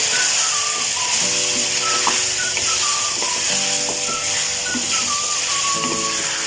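Mutton fries in ginger garlic paste over high heat, a steady close hiss and sizzle with occasional faint stirring clicks throughout.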